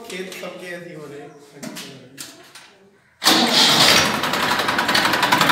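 Someone talks briefly, then a Massey Ferguson 1035 DI tractor's diesel engine cranks on the starter and roars to life, settling into a loud, rumbling idle close by.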